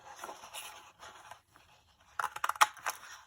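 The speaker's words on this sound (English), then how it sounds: "just start punching some holes" A handheld hole punch bites through scrap cardstock in a few sharp, crisp clicks and crunches, preceded by quieter handling rustles, close and with no talking.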